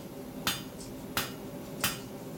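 Hot square steel bar hammered to a point over the anvil edge, three sharp metallic blows spaced about two-thirds of a second apart, ringing briefly over a low forge hum.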